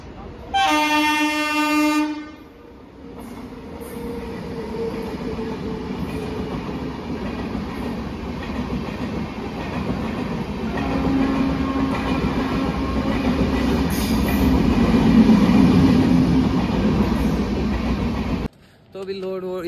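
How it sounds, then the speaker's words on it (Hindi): A passenger train with coaches rolls past on the Srinagar to Jammu route, opening with a loud horn blast, then a steady rumble of wheels and wagons that swells and fades, with a voice faintly heard in the background. "तब से वो एक डिब्बा ट्रेन का भी आ गया"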